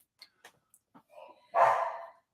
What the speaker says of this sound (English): There goes the dog. He thinks somebody's here